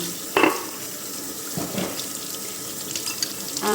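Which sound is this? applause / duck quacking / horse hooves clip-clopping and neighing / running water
running water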